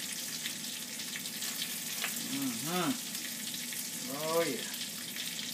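Bacon sizzles in a pan with a steady, quiet crackling hiss while a man murmurs brief replies over it.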